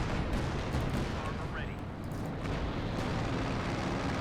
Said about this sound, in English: Some good artillery.